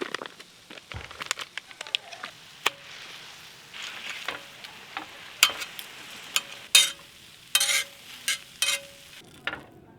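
Spicy pork sizzles and crackles as it is stir-fried in a hot pan at a valley campsite while a utensil scrapes and clanks in irregular bursts, close by with no talking.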